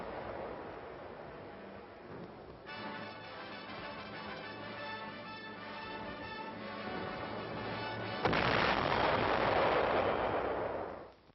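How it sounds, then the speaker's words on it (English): Big guns of artillery firing along a snowy Korean War front in winter: a dull, continuous rumble of distant heavy fire with a rising roar of gunfire and blasts toward the end, no voices. "The snow muffles the sound of the big guns."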